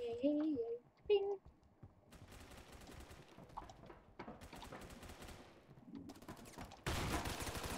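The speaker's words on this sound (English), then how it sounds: "That was a shotgun. It should be doing lots of damage to him." Shotgun blasts and other gunfire in a first-person shooter video game sound as rapid, sharp bursts over a steady game-sound bed, with a voice talking briefly at the start.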